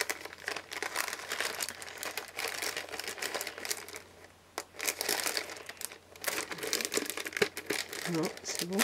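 A wrapped package is torn open, with crinkling paper and tape rustling close by in repeated bursts while someone talks over it.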